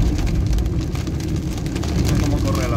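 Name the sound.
heavy rain falling on a car during a storm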